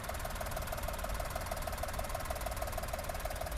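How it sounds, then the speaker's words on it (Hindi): A Suzuki Wagon R LXi CNG engine idles with the microphone held close, a steady hum carrying a fast, regular ticking pulse that never changes pace. "और इंजन नॉइस आप सुन सकते हो। देखो माइक पास लेके जाता हूँ।"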